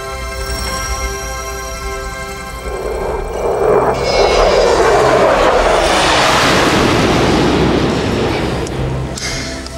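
Jet aircraft passing overhead, starting as a steady whine and swelling into a loud, broad roar that holds for several seconds, with no voices.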